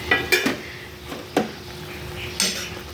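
Adobong pusit is stirred in a pot, with a few sharp metallic scrapes and clinks of a utensil against the pot spaced irregularly over a faint background simmer.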